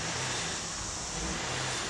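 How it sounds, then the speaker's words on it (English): Broad, steady engine roar from a Chevy Traverse with the gas pedal floored, a loud continuous rushing drone with no clear revving rise, heard alone without talk. "I'm stepping on the gas."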